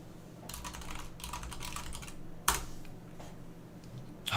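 Rapid clattering keystrokes on a computer keyboard come in bursts with short pauses, ending with a sharper key strike, close and moderately loud, with no voices.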